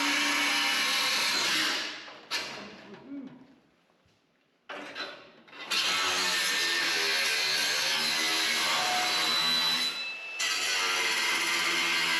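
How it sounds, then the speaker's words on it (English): An angle grinder fitted with a flap disc trims the back of a workpiece, whining loudly in long sustained bursts that drop out briefly twice before spinning back up. "Now I'll put the grinder on it, a flapper, and I'll trim the back"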